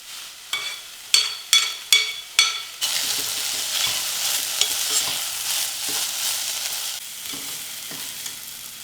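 Ingredients are stirred and roasted in a pan for a simple diet meal, opening with five sharp, evenly spaced scraping strokes, then a steady close sizzle with scattered utensil clicks and scrapes, no voices.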